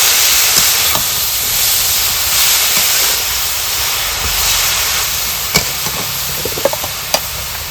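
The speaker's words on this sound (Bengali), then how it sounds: "শাকটাকে ভালোভাবে ভাজতে হবে" Bottle gourd greens fry in a pan with a loud, continuous hissing sizzle, a few sharp utensil scrapes and taps breaking through toward the end, close and without talk.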